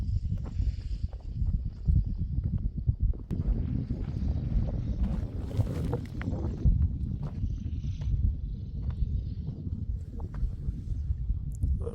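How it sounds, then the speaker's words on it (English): Brisk morning wind blows outdoors on a ranch in steady, gusting buffeting across the microphone, with faint scuffs and movement underneath. "The wind's still a little brisk this morning."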